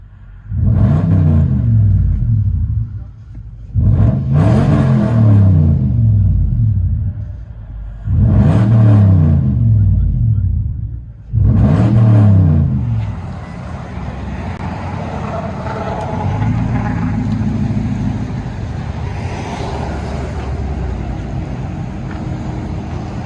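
A 4.7 engine fitted with true dual exhaust revs hard four times in a row, each deep rumbling burst rising and falling with short gaps between, then settles into a lower, rougher steady drone.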